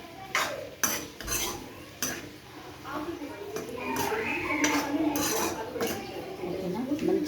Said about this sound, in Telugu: మంచిగా కలుపుకోవాలి.